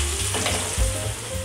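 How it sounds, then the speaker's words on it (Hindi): Oil hits a sweet sugar paratha cooking on a hot pan, raising a loud, close, continuous sizzle with a brief louder spatter partway through. "2 से 3 टेबलस्पून मैं इस पे ऑयल डाल रही हूँ।"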